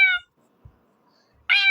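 A cat meows in a cat simulator video game, two short clear meows, one at the start and one at the end, separated by near silence with a faint thump between.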